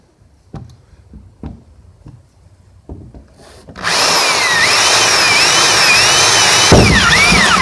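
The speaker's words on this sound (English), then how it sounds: "Now, I'm gonna grab a drill and punch my pilot hole." Power drill boring a pilot hole for a homemade snorkel: a few faint knocks and handling sounds, then a loud, steady, high whining drill runs close up for the last half, with a brief rise in pitch near the end.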